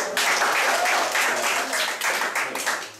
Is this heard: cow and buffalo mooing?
no